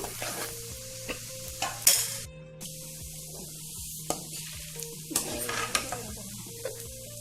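Roasted gram is stirred as it fries in oil for a homemade mixture snack, giving a soft sizzle with repeated scraping stirs and clinks of a spoon against the pan, close and fairly quiet.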